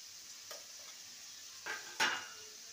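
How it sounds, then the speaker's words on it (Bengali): Potatoes frying in a pan with turmeric and salt, with a faint, low sizzle broken by a few soft stirring scrapes and one sharper clink of a utensil against the pan near the end. "আলুটাকে ভেজে নেব।"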